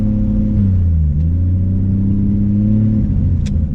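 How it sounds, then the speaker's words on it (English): Chevrolet Camaro SS on a race track, its engine a loud close low rumble with shifting tones as the throttle is feathered, steady throughout. "in her Camaro SS, just pedaling it, really just trying to be graceful on the pedal."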